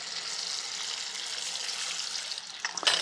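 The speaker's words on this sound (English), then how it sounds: "just lower these brick into the hot fat" Brick pastry sheets fry in hot fat, giving a steady, close hiss and crackle that runs throughout without talk, with a few sharper sizzles and pops near the end.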